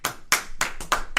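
Several sharp hand claps in a quick, uneven run, close and fairly loud, with no voices in between.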